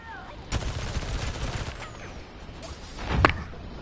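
Video game gunfire rings out in a rapid burst of shots lasting over a second, then a pause, then a single sharp, loud crack near the end.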